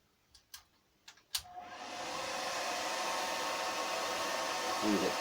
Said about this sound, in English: So we'll crank the hairdryer up and get bending.